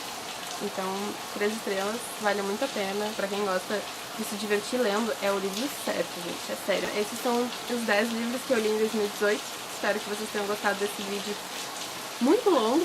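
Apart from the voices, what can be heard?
rain falling outside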